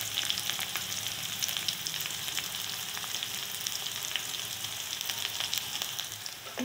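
Onion sizzling in a pan as it browns, a continuous even frying hiss at moderate level, close by, with no voices.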